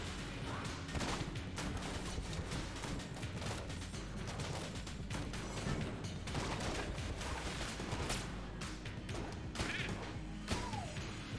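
Dense, rapid gunfire and impact crashes from the video game Enter the Gungeon, a loud continuous barrage of shots and thuds layered with game effects throughout.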